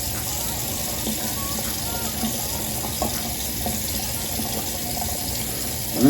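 A tap runs steadily into a sink for rinsing off a skincare product, giving a close, continuous hiss and splash. A faint knock comes right at the end.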